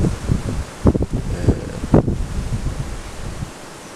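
Wind gusting through rustling leaves outdoors at a Swedish roebuck hunt, a steady broadband whoosh with brief sharper rustles and bursts of wind buffeting the microphone, no talk.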